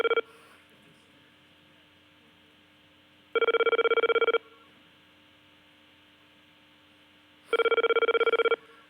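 A telephone ring tone heard on a call sounds as one-second electronic bursts about four seconds apart, over a faint steady line hum.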